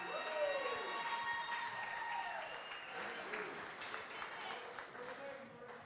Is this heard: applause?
yes